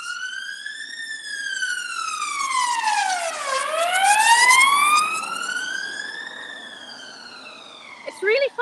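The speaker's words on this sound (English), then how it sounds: "It's really funny a fire engine should go past" A fire engine siren wails past on a city street in Newcastle, rising and falling in long sweeps that swell as it nears and then fade away, loud and close, with a brief clatter at the end.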